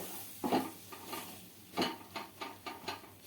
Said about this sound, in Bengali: ময়দাটাকে বাটারের মধ্যে নাড়তে থাকবো